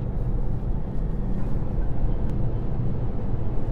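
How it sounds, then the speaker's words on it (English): Steady, broadband wind roar fills the cabin of a 2018 Toyota C-HR at highway speed, about 68 mph, a constant rushing hiss over low road rumble, with wind noise coming off the pillars. "First thing that's noticeable on the highway is wind noise coming off the pillars."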